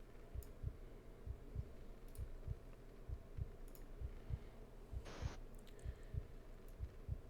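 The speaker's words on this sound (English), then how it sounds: "The heartbeat's going." A heartbeat sound effect plays during a Star Trek tabletop role-playing session, about a dozen soft, low, evenly spaced throbs repeating steadily at moderate volume, with one brief hissing burst partway through.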